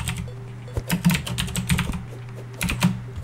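Typing on a computer keyboard, a quick irregular run of soft close key clicks, fairly quiet, with no other sound.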